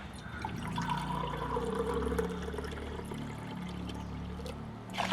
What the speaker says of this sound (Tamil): அரை சுண்டு தண்ணி விட்டுருக்குறோம்.